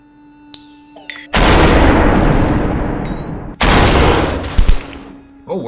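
Gunfire in the video game Superhot: two long, loud bursts of dense, roaring noise, each lasting over a second, with brief sharp clicks and a faint steady tone before and between them.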